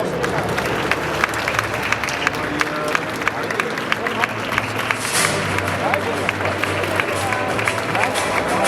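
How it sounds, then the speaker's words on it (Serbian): A crowd claps and cheers steadily at the 2023 Belgrade international car show, welcoming the new Hyundai Ioniq 6 with sustained, dense applause and a loud, busy hall murmur under it. "Dame i gospodo, pozdravite aplauzom novi Ioniq 6."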